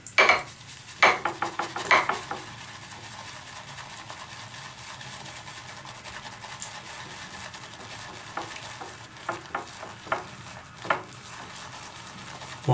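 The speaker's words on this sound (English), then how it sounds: "it's not taking long to create a lather" A shaving brush whips Bowtie Soaps soap into lather in a bowl, giving a soft wet swishing and clicking churn, with louder bursts of brisk stirring at the start and toward the end.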